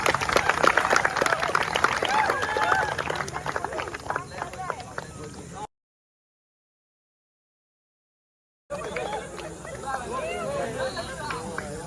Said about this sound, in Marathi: त्यासाठी जोरदार टाळ्या